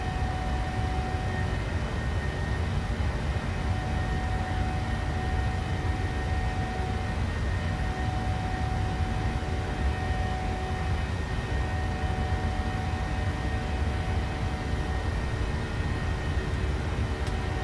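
Steady, loud cabin drone of a PMDG 737-800 airliner cruising in Microsoft Flight Simulator, a continuous broadband jet-engine rush with faint tonal hums and no voices over it.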